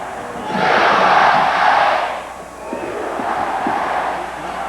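A stadium crowd of around 30,000 at Stanford Stadium for a 1998 USA vs Canada World Cup qualifying football match roars loudly, swells for a couple of seconds, dips, then keeps up a broad distant rumble.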